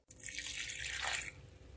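Water is poured onto broken jaggery in a kitchen vessel, a short close splashing trickle lasting just over a second.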